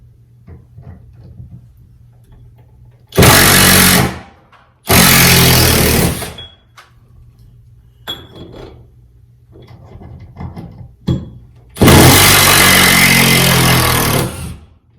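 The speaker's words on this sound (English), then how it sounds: "So I'm going to try to push this to the side so I can get an impact driver up there." An impact driver backs long screws out of a pendant ceiling light's mounting bracket, sounding in three loud, close bursts of hammering whir separated by quiet pauses with faint handling noises.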